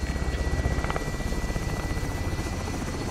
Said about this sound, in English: And immediately after, I'm going to take a chopper.